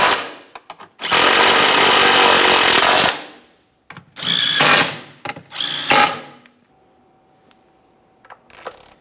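A power tool whirs in several loud, close bursts, one long and two shorter, as it snugs up transmission mount bolts on a 2011-2021 Jeep Grand Cherokee 3.6L V6, with short pauses and clicks between runs.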